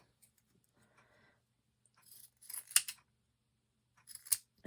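Scissors trim paper wings for a fairy or angel craft bottle, a few quick snips in two short bursts, close and fairly faint against a quiet room.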